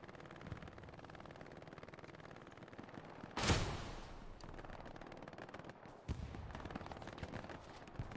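Gunfire in a World War II-style multiplayer game battle at Kharkov, with a continuous rattle of distant shots and a louder close blast about midway, followed later by another sharp report.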